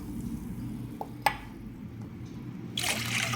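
Water poured into jowar rava (sorghum semolina) for kichidi: a couple of faint drips, then a steady splashing pour near the end over a low kitchen background hum.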